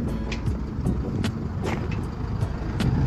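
A garbage truck on a rural road revs its engine loudly in a continuous, rumbling roar with a few sharp clanks and hisses over it, close by and without pause.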